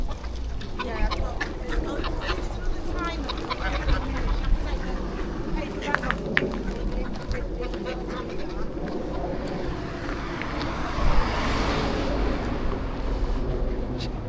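Ducks and geese gathered by the water quack and honk in a busy, overlapping chorus over steady outdoor noise and wind, with people talking nearby throughout.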